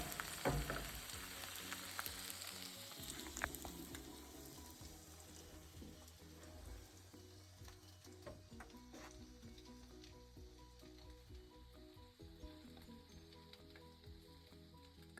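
Leftover sausage frying in butter in a pan on a stove in an off-grid tiny cabin, a faint steady sizzle with occasional stirring scrapes, close and quiet, without voices.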